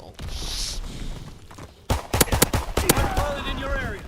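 Pistol fire in Call of Duty: WWII, a quick run of sharp, loud shots cracking one after another amid game noise, with a voice briefly heard during the sequence.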